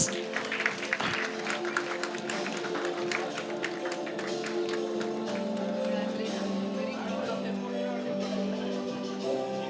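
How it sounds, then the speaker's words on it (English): Sustained applause from a crowd at a press conference, steady clapping throughout with music or voices droning underneath. "Come on, a big round of applause."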